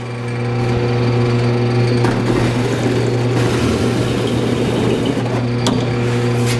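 A power tool bevels the edges of drilled holes in a steel drive shaft loop for a 1949 Chevrolet Gasser, giving a loud, close, steady high-pitched whine with slight grinding variation throughout.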